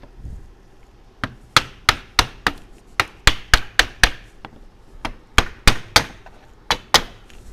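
Sharp hammer blows strike in quick bursts while installing window rubber on a GMC motorhome, about twenty hits with brief pauses between runs, close and loud.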